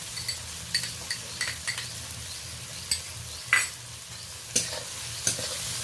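Garlic and masala being stirred in a frying pan for a curry with potol and a large katla fish head: soft scraping strokes of a spatula against the pan over a quiet background sizzle, with occasional clinks.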